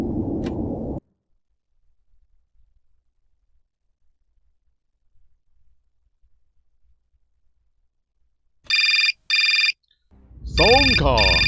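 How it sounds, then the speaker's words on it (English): Synthetic telephone ringtone in the Syberia Remastered game, a few bright electronic rings after a long near-silent gap, with a short burst of a voice at the start and a warbling tone at the end. "Phone call!"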